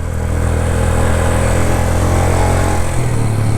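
A motorcycle engine strains loudly in first gear up a steep mountain road near Noori Top in the Neelum Valley, Azad Kashmir, a steady close droning labour whose pitch drops noticeably near the end.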